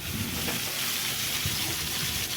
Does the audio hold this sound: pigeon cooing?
no